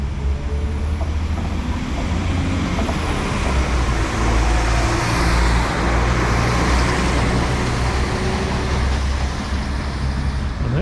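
A train bound for Nottingham passes at Alfreton, giving a broad, steady roar with a deep low rumble. It stays loud and close for the full stretch, with no one talking.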